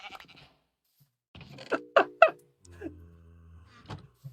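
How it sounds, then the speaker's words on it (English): A blocky sheep in the game Minecraft bleats a few times in quick succession, clear and close, after a brief soft rustle, with silence in between. "That's the second time the sheep scared me."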